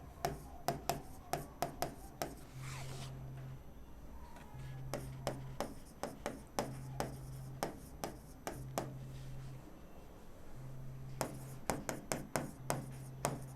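Pen strokes scratch across paper in short bursts, alternating with pauses, as someone writes out an income-from-salary tax calculation for entertainment allowance; close and fairly quiet with a faint steady hum underneath.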